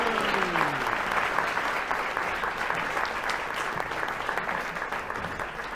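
Audience applause at the end of a Hindi theatre play staged in Sydney, a dense, steady clapping from a large crowd, loud and sustained throughout with no speech.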